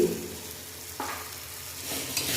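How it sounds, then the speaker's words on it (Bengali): Pumpkin curry with prawns and a little sugar is stir-fried in a pan, a close continuous sizzle broken by two sharper stirring scrapes. "আবারও সব কিছু ভালো করে একটু কষিয়ে নেব"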